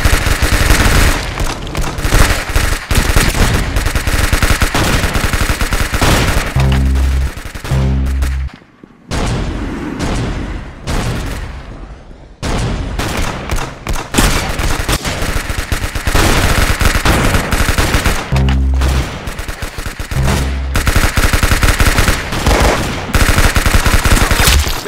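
Loud, sustained automatic gunfire rattles in the Roblox-style shooter Arsenal, long rapid bursts with one brief pause partway through before the shooting resumes.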